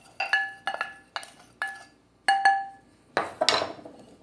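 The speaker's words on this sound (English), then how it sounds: "Now we just give it a mix and see all those colors come together." A spoon clinks against a bowl while mixing a spice rub with turmeric and cinnamon: a short series of bright, ringing taps in uneven bursts, close and clear, with no voices.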